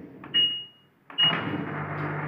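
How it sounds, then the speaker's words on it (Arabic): An LG automatic washing machine's drain pump starts with a click and a short beep, then runs as a steady low hum and whir, close and moderately loud. "ده صوت الترومبة، ملوش علاقة خالص بالبيلي ولا بالمشكلة بتاعتنا"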